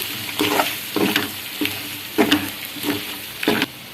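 Mutton fry stirred in a hot pan after chilli powder and coriander powder go in, giving about six rhythmic scraping sweeps over a steady close sizzle, with no talk.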